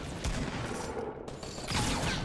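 Rapid gunfire in the Fortnite video game, a dense burst of shots that rattles on steadily for about two seconds with a brief dip partway through, loud and close with no talking over it.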